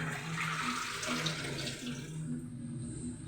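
Ponnanganni spinach greens are rinsed in water, with a steady close splashing and running-water wash that fades quieter toward the end; no speech is present.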